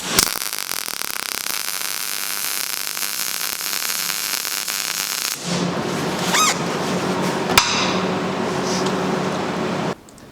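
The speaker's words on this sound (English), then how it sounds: "So you can probably hear the difference in the sound of all those different welds there." A MIG welder laying a test bead at a mid voltage setting, a loud close crackling hiss that runs steadily for several seconds, shifts to a rougher buzzing sputter, then cuts off.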